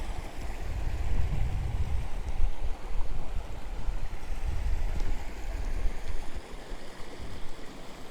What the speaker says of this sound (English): the reason I chose to film this part is a lovely stream